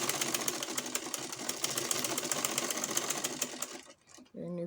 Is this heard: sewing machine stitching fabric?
yes